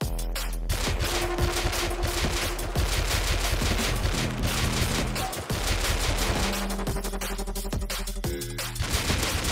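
An MP5 submachine gun in the game Rust fires in rapid, dense bursts for nearly the whole stretch, loud and continuous with brief pauses, with no talk over it.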